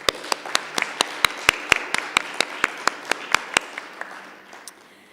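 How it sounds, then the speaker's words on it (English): Sparse, evenly spaced claps from a small audience at a graduation ceremony for a business women's program, about a dozen distinct claps in a steady rhythm that taper off after four seconds. "if we can give yourselves a warm round of applause"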